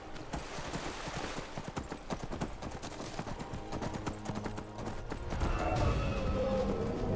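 Horse hooves clip-clop steadily in the Skyrim video game, a continuous rhythmic trot of game sound effects with a splashing shift near the end, no voices.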